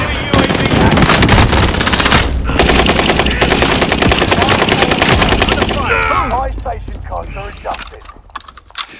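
Rapid automatic gunfire rattles loud and continuous in Call of Duty Warzone for several seconds, then breaks into scattered shots and clatter as it fades, with game voice lines over it.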